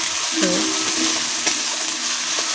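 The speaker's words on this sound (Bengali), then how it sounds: "সুন্দর করে টমেটোটা দিয়ে দেবো দিয়ে সুন্দর করে কষাতে থাকবো" Tomatoes stir-fried in a pan for a fish curry, a constant hiss of sizzling with a couple of utensil scrapes and brief tonal background sound.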